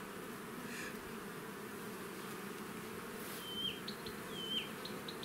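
Honey bees buzz at an open hive during a colony transfer, a dense, steady close hum with a few individual bees whining past nearby.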